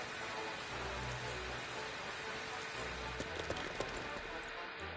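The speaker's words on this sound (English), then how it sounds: "And it started raining for the game." Steady rain falls in the Dragon Quest Heroes 2 video game, a constant hiss with faint scattered drops and a few soft thumps near the end.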